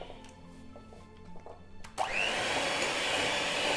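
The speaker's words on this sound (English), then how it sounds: "And then with your electric mixer." An electric hand mixer starts up in a bowl of banana bread batter made with dark sugar, its steady whirring motor sound running loud and close after a short stretch of quiet kitchen handling.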